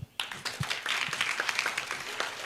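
An audience claps at an evening reading and storytelling festival, with a burst of steady applause that starts abruptly and continues evenly at moderate distance.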